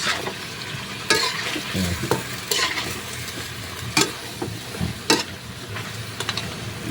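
Chicken adobo with coconut milk and a little dried fish being stirred in a pan over heat, with a steady sizzle and repeated scraping strokes of the spoon coming through close up.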